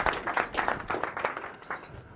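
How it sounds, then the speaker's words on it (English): An audience gives a round of applause after a talk on emotional intelligence and leadership, a moderate burst of many hands clapping that gradually thins and fades. "Everybody give Steve a huge round of applause"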